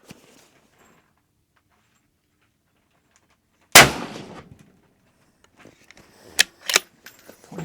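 .308 Win rifle firing Berger 175 gr OTM Tactical Match ammunition, one sharp loud shot standing alone after near silence, followed by smaller clicks and clanks of handling.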